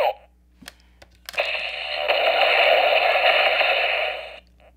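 An electronic cannon bombardment sound effect plays from a Kamen Rider Ryuki card, a couple of clicks followed by a loud, tinny, sustained burst of noise that cuts off abruptly.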